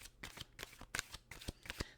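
Tarot cards being shuffled close by, a quick series of soft riffling flicks and taps over about two seconds, quiet and with no talking.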